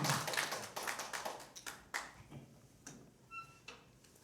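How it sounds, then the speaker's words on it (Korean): Korean church congregation clapping to cheer on a special hymn singer, faint scattered handclaps at uneven intervals in a quiet room, thinning out toward the end. "우리 다같이 박수로 응원하겠습니다"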